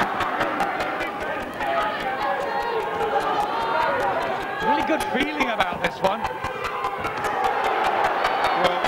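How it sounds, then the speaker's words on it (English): Dense boxing arena crowd at a Dazzo Williams vs Jamie McKeever fight, roaring and shouting continuously and loudly throughout, with excited voices rising mid-way, under a commentator's talk. "Well, plenty of crowd noise. They're very excited, shouting for both their men."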